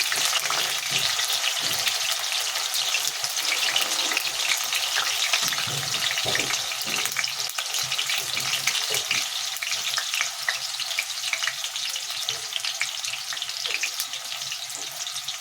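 Finely chopped onions frying in a pan for vangi bath, a dense, steady sizzle that holds throughout with faint stirring and no voices.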